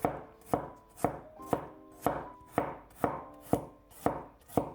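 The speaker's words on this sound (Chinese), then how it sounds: "几瓣去皮的大蒜先切成片" A knife slices peeled garlic cloves on a cutting board in about ten crisp, evenly spaced chops, close and clear. There is no talking.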